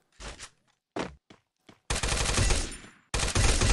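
Short bursts of Free Fire gunfire pop in quick clusters, then two long, loud sustained volleys of automatic fire ring out close by.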